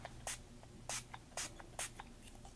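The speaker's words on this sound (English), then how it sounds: "I'm going to do a light spray from higher up." Four short bursts of Bubblegum Pink ink spray hiss lightly from a spray bottle held high over an art journal page, spaced evenly and quiet against a low room hum.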